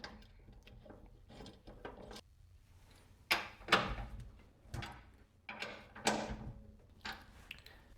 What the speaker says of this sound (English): And then you'll want to put your bolts in and get this tightened up.